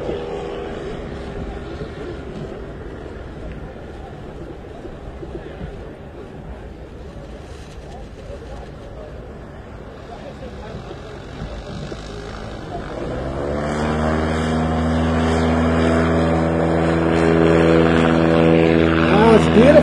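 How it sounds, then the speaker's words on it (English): A STOL bush plane's propeller engine hums steadily, then swells into a loud, harmonic roar as it powers up for takeoff, close and dominant throughout. "Takeoff."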